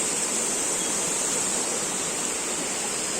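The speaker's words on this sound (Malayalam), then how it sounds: "അവിടുന്ന് ഒഴുകി വെള്ളച്ചാട്ടം കഴിഞ്ഞു വരുന്ന വെള്ളം ഇങ്ങനെയാണ് പോകുന്നത്" Water rushing downstream below the Thusharagiri waterfall, a loud, dense and continuous roar of flowing water close by, with no voices.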